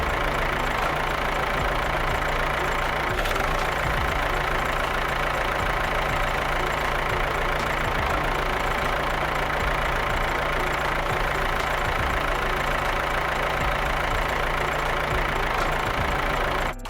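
Heavy equipment engines idle together as operators climb into their vehicles, a steady, even rumble with a low mechanical hum that holds at a constant moderate level throughout, with no talking.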